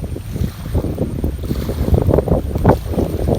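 Strong wind gusts roar loudly and continuously across the microphone at a flooded construction site, a rough, buffeting rush with surging peaks and no talk.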